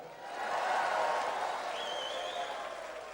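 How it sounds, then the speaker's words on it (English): Listeners at a sermon clap and murmur in a large hall, a moderately loud, diffuse swell that rises within the first second, holds and then eases slightly toward the end. "Everybody clap right there."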